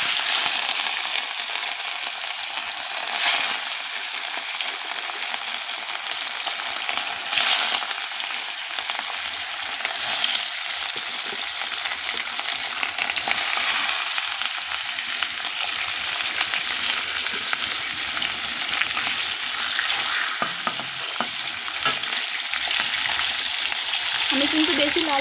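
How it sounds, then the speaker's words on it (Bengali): Pieces of rohu fish fry lightly in a hot kadai, giving a steady, close, loud sizzle and crackle that runs unbroken the whole time, with a few slightly stronger spits along the way. "আমি কিন্তু বেশি লাল লাল করে ভাজবো না, হালকাভাবে ভেজে নেব।"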